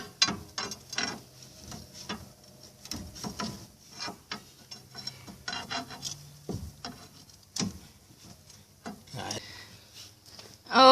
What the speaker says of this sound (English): you're going to need a 12-point wrench to take this off